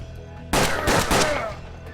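Three rapid revolver shots fired by fanning the hammer in the Western tactics game Hard West, coming as a loud burst of close, overlapping bangs followed by a decaying echo.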